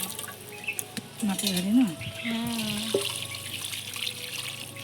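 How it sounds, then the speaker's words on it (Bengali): Water poured from a tap into a clay pot for handi chicken cooking at home, a soft running trickle under a voice speaking nearby, with scattered clinks of kitchen activity. "একটু জল দিয়ে দিচ্ছি।"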